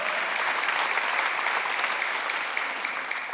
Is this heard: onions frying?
no